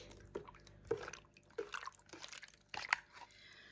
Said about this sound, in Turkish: Biraz su ilave ettik.